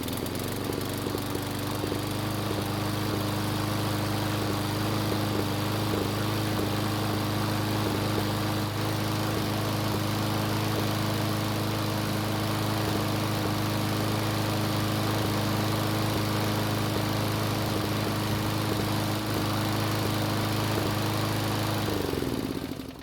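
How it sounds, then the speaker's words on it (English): A Craftsman lawn mower engine with loose head bolts runs continuously up close, a steady loud buzzing drone with slight uneven sputtering in its rhythm, cutting off abruptly at the very end; no talk. "it's still sputtering, so the loose head bolts didn't have any effect on the way the engine was running"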